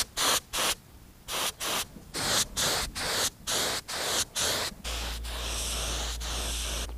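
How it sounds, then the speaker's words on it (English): A spray gun spraying wood stain on loft joists hisses in a dozen short bursts with brief gaps, then settles into one long continuous spray over a low hum. "so I'm going to use a spray gun"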